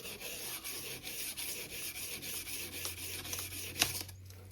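Abrasive sanding of American Flyer S gauge model train track makes close, steady rubbing strokes in a quick back-and-forth rhythm, fairly quiet, ending with a small knock, with no talking.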